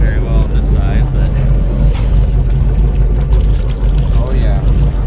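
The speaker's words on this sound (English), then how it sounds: "Engines warm up, make sure the blowers are turned on. And then, yeah, she's running." Twin engines of a Sea Ray 37 boat, hauled out at a Seattle shipyard, run in a steady, loud, low rumble with water splashing from the exhausts and wind buffeting the microphone.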